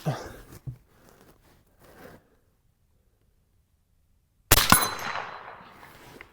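A suppressed Henry Model X .30-30 lever-action rifle fires a single sharp report outdoors, followed by a short decaying tail after a stretch of near silence.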